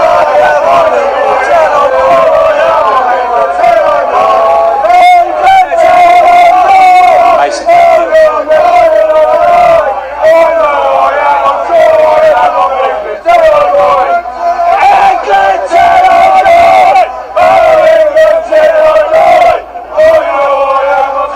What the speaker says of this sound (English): These are the crowds.